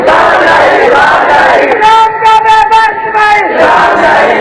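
A packed crowd at a Khatm-e-Nabuwwat religious gathering in Chiniot roars out slogans together, a loud massed chant of rising, sustained voices that swells and fades.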